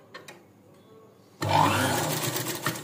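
A sewing machine with a normal presser foot stitches invisible piping onto lining cloth at a half-inch seam allowance. After a near-silent start, a steady, close mechanical whir begins partway through and runs to the end.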